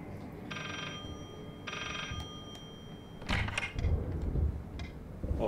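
A telephone ringing in the horror video game Layers of Fear, with two long bell-like rings in succession, then creaking and mechanical game noises.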